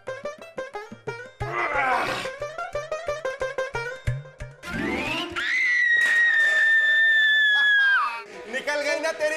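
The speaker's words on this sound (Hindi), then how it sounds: "ये फूफी चीखी आपका मुग्दल लगने से" A woman's shrill, prolonged scream in a comic Akbar Birbal scene after a blow from a heavy wooden mugdar club, rising sharply and holding for about two seconds, preceded by rapid clattering, thumping and shouting.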